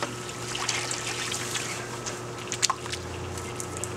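Soapy water poured into a gold pan while panning zircon and heavy minerals, a soft continuous trickle and slosh with a couple of small splashy clicks near the end.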